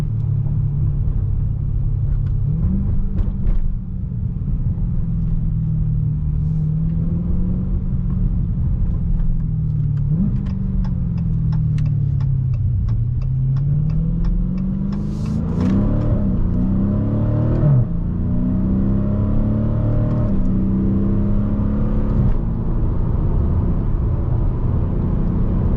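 A 2020 Dodge Challenger Scat Pack engine drones loudly and steadily, rising and falling as it revs, with several manual paddle downshifts producing blips and climbing pitch sweeps before it settles back into a strong rumble.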